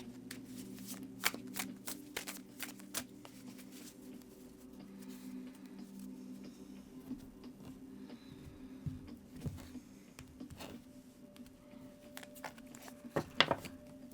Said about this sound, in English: I will meet you on the other side of the shuffle for your reading.